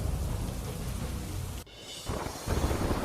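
Heavy monsoon downpour in Mundra, Kutch, pours onto a road where water runs along the surface, a dense steady roar that dips briefly and then swells louder again.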